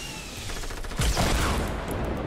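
A weapon fires in Fortnite and tears down player-built structures, with a dense, booming barrage that swells into a louder crash midway.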